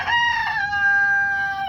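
A rooster crows nearby in one loud, drawn-out call that holds a steady pitch before breaking off, heard alone.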